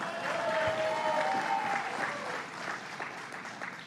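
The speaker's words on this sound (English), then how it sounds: "To our great Attorney General, Eric Schneiderman, let's give him a round of applause." A crowd at an outdoor political rally in the Bronx breaks into loud, dense applause for the state Attorney General, many hands clapping at once and tapering slightly toward the end, with scattered voices mixed in.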